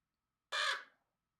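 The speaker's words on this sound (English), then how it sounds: "Oh, that's another crow." A crow gives a single loud, harsh caw, about half a second long, clear and close against otherwise silent surroundings.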